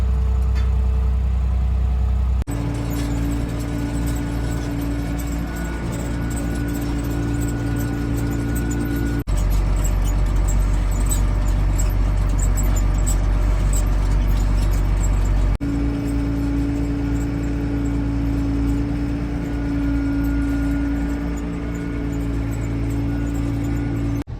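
A tractor travels along a road towing a folded potato planter, its engine droning loud and steady throughout with a few abrupt shifts in tone, and no voices.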